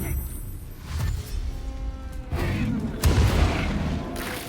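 Fireball explosions in the video game Baldur's Gate 3, several deep booming bursts with rumbling low-end impacts at irregular intervals, the loudest around the three-second mark.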